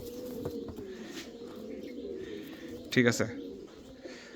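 Fancy pigeons coo softly at a pigeon seller's stall, low murmuring calls running under quiet background noise, while someone speaks briefly near the end.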